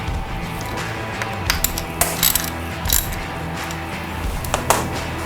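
A ratchet tightens screws on a Duramax diesel fuel filter housing, giving short bursts of close metallic clicking over a steady background hum.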